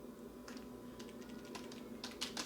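Keys on a Logitech keyboard are pressed in quick, light clicks. Short bursts of close typing come in uneven runs with no talk.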